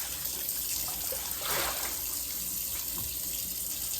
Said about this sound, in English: I'm going to start running my water over in this sink